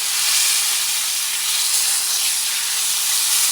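A bison London broil steak sizzles hard in a hot pan just after flipping, a loud, steady hiss of searing fat and moisture lasting throughout without speech.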